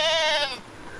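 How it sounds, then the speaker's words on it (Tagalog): A goat wearing a muzzle bleats once, a close, strained nasal cry that fades after about half a second into quiet farmyard background. "Yan po, kambing na may busal."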